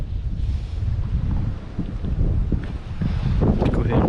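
Strong wind buffets the microphone on a small fishing boat near Grassy Lake, producing a continuous low rumbling roar with gusty swells and faint water sounds, no clear talk.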